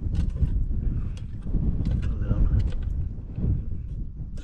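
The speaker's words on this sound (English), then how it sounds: "The wind's gonna blow it out." Strong wind gusts buffet a microphone at a wild bivvy camp among rocky crags, a steady low roar that swells and eases, with voices talking faintly underneath.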